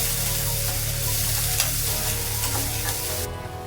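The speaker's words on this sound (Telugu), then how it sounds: "ఉల్లిపాయ పచ్చి వాసన పోయే వరకు మనము ఆయిల్లో వేపుకుందాం" Steady, loud sizzling of onion paste frying in hot oil, continuous crackle with no voices.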